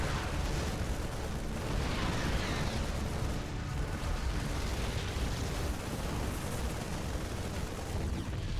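StarCraft 2 siege tanks pound away in a continuous, dense rumble of heavy cannon blasts and explosions that blur into one another, steady and loud throughout.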